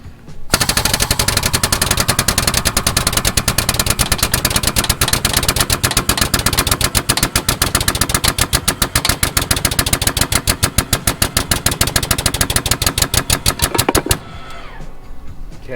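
A Harbor Freight 12-ton pneumatic hydraulic jack lifting a 40-foot toy hauler, its air-driven pump hammering in a loud, rapid, steady rattle for about fourteen seconds before cutting off.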